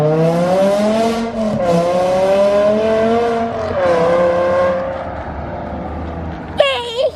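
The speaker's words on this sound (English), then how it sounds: "You hear the downshift?" Straight-piped V10 BMW M5 engine droning loudly and steadily, rising and falling through a downshift, then a sharp rev burst near the end; music and talk play over it.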